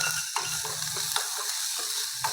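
Chopped onion frying with cumin and mustard seeds gives a close sizzle broken by scraping stir strokes in an irregular rhythm over a few seconds.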